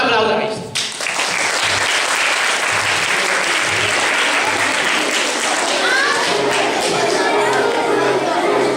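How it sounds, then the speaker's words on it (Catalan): An audience in a children's theatre performance breaks into sustained, loud applause that carries on steadily with crowd chatter and children's voices mixed in. "Os ordeno que me aplaudáis."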